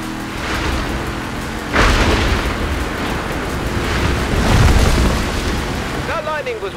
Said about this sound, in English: That lightning was way too close.